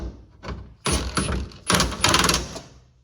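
Mechanical clicks and ratcheting bursts come from a wrench tightening bolts on a 1968 Plymouth Fury back window regulator, several close, uneven bursts with short pauses.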